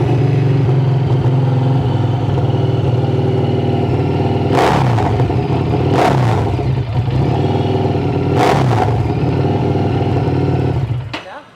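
A 2016 Harley-Davidson Street 750 with its exhaust baffles removed idles loudly up close, its deep, steady rumble broken by several sharp throttle blips before the engine cuts off at the end.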